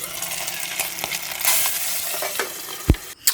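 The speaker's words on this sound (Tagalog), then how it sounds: "pahirapan talaga ang magprito ng bangos" Milkfish (bangus) sizzling and crackling as it fries in a pan, a steady close hiss broken by sharp pops and spatters, with a louder burst near the end.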